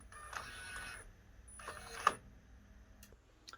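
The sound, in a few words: Omni Freejet 330TX printer print head redocking into capping station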